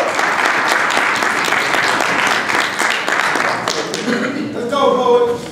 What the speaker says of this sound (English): On 3, I want y'all to start clapping for Red Storm.